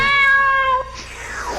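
A Wind Up Kitten character in a Warhammer 40,000 fan animation lets out a single loud, drawn-out meow that fades into a softer tail.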